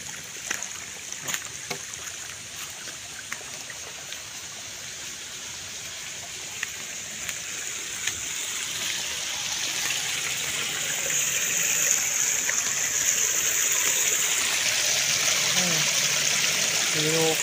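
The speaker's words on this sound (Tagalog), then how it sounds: "Malakas ang agos ng tubig mga kapatid." A strong stream current rushes and gurgles close by in a forest, a continuous hiss that grows louder and fuller in the second half.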